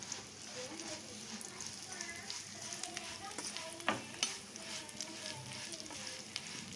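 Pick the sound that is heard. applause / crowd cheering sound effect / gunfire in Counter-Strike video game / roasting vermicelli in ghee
roasting vermicelli in ghee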